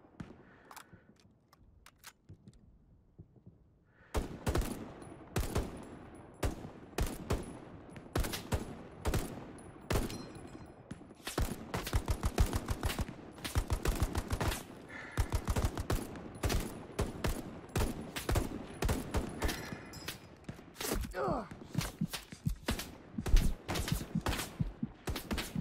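Rapid gunfire in the World War II shooter Hell Let Loose, with dense bursts and single loud shots crackling almost nonstop after a brief quiet start, some shots near and sharp, others further off.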